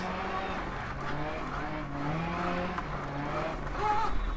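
Rally car in Dirt Rally driven with a broken wheel, engine droning and rising in pitch with tyre scrub throughout, close and fairly loud, with a voice talking over it.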